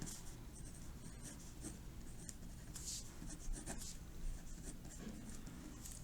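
A pencil writes a title on paper with steady, close scratching strokes that continue without a break, punctuated by a few brief taps.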